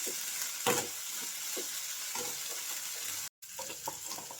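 Raw mung beans frying in a hot oil tempering, a steady soft sizzle with occasional stirring scrapes and clinks in the pan, heard alone with a brief dropout near the end.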